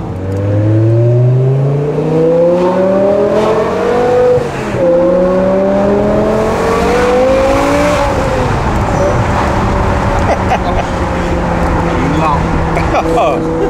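A BMW 5 Series engine revs hard, climbing in pitch in rising pulls with a brief drop between them, loud and close, before settling into a sustained high drone.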